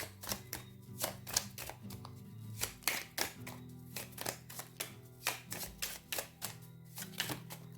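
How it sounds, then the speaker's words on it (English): Tarot cards being shuffled at close range, a quiet run of crisp irregular slaps and riffles repeating through several seconds with no talk. "I still kind of want to shuffle for a little longer to see if we get anything else."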